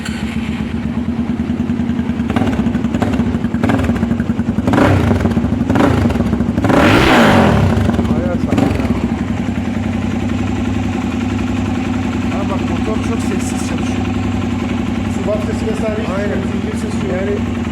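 A Mondial Xtreme 250 single-cylinder motorcycle engine runs steadily at idle, with a few short revs and one stronger rev in the middle, while people talk over it.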